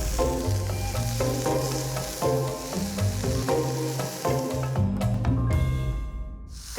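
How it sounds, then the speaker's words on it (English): A sous-vide beef fillet sears in a hot pan, giving a steady, close sizzle and crackle that persists throughout, with a soft musical bed underneath. "We'll give it a little longer so it's seared on all sides."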